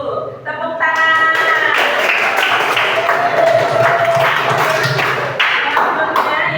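Classroom applause for a student group, a loud, sustained rattle of hand clapping with some sharper individual claps standing out, and a voice briefly heard near the start.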